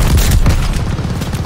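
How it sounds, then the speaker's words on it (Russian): A glide bomb dropped by allied forces explodes in the World War II shooter Call of Duty Vanguard, a loud, deep rumbling blast with crackling debris that rolls on for over a second. "Союзники хорош. Сбросили планирующую бомбу."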